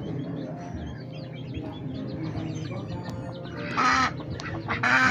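Roosters and chickens at a fighting-cock breeding farm cluck and call close by, with louder bursts of squawking near the end over a busy background of birds.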